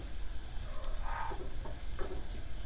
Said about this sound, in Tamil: கட் பண்ண ஆனியன் நல்லா வதக்கிடலாம்.